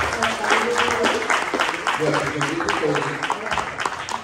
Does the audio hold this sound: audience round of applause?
yes